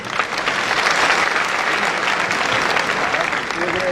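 An audience at Talkatora Stadium in New Delhi claps loudly and steadily, a dense, sustained burst of applause from a large crowd filling the hall.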